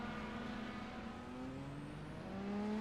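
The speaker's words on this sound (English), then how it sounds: "Brings up the revs and exits his pit box." An IndyCar in a racing video game on the Iowa Speedway oval revs and pulls out of its pit box, a steady engine whine climbing in pitch and growing louder toward the end, with no talking.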